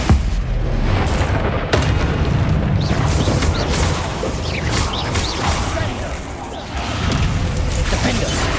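A Confringo fire spell explodes in Hogwarts Legacy on PC, a dense booming blast with crackling debris and whooshing effects that fill the whole stretch at high loudness, with a short dip near the end before the roar resumes.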